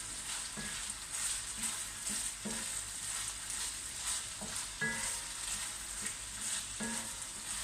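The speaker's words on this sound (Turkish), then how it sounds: "Şimdi soğan da ekleyeceğim. Biraz da soğanıyla kavrulsun." Onion and chicken fry together in a pan with a constant soft sizzle, broken by rhythmic scraping stirs every second or so, close and fairly quiet with no voices.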